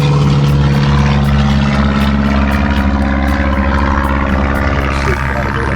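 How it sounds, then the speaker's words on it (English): A propeller airplane departing runway 24 at a busy weekend fly-in airfield, a steady loud engine drone with strong low harmonics holding throughout, close and continuous with no talk. "There's a departure off of runway 24 today."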